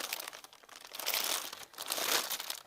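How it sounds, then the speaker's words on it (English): Paper packaging from a quilting kit crinkles and rustles in steady bursts close by, swelling twice as it is handled, with no talking. "all right, crinkling, I'm sorry."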